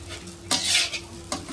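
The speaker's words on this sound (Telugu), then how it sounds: "ఫ్రైడ్ రైస్ అంట, ఎగ్ ఫ్రైడ్ రైస్ అంట, వెరైటీగా చేస్తున్నారు." Egg fried rice is stirred and fried in a pan, with two sharp scraping stirs over a soft continuous sizzle, close and clear.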